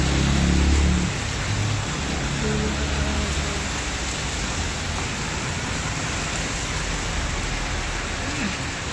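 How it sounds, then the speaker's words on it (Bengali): Heavy morning rain falls outside a shop as a dense, steady hiss that is slightly louder at first and then continues evenly. "সকাল সকাল যে এত বৃষ্টি হবে এভাবে বোঝা যায়নি"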